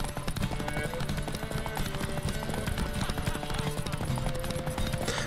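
Horse hooves clip-clop steadily in The Witcher 3, a brisk continuous trotting rhythm over layered game ambience, with someone talking intermittently over it.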